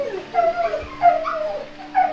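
A dog in a shelter kennel whines and yelps in short, high, wavering cries, fairly close, with a steady low hum underneath.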